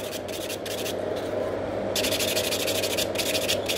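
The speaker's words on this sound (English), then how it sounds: "So I'm just filing all the nails very quick." A nail file rubs quickly back and forth across gel-polished fingernails, giving steady close rasping strokes in bursts with brief pauses between them.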